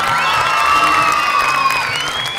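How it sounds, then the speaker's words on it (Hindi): A TV game show grand finale audience cheers and whoops with high shouts over clapping, a loud dense burst lasting a couple of seconds. "पहले चारों बच्चों के लिए ढेर सारी तालियां होंगी।"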